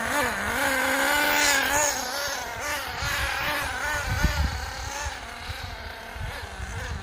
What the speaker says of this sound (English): I've now got it up and running, but she is stalling, so she needs a bit of tuning.